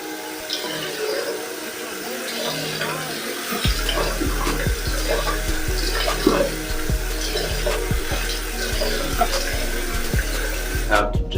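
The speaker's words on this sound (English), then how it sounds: "you have to rinse your hands in water" Water streams from a tap as hands are rinsed under it, a steady running wash with soft splashes, close and continuous.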